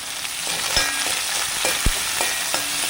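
Onions frying with ginger and green chili in a pan for a Kerala-style egg roast give a steady, close sizzle, broken by a few sharp stirring scrapes and clicks.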